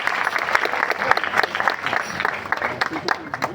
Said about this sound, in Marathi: आपण सर्वांनी या सर्व परिवारासाठी मंडळासाठी एकदा जोरदार टाळ्या